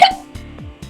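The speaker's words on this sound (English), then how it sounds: "sorry, hiccups" A single short hiccup close up, a sharp voiced catch with a few faint vocal sounds right after it.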